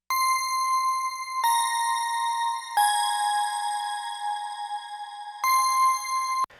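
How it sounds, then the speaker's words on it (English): Bright electric bell synth notes ring out one after another, each sustained with a shimmering tone and a long reverberant tail. "I took this little E-bell. This just has a nice little bit of sheen and texture and a ton of reverb."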